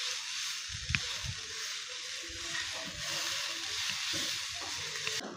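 Vegetable momo filling frying over high heat in a pan, a steady close sizzle with scattered soft stirring knocks and scrapes throughout, no voices.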